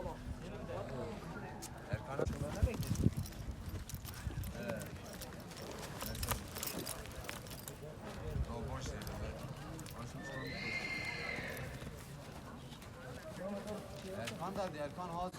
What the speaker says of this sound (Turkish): jokeyimiz atımı gezdiriyor şu an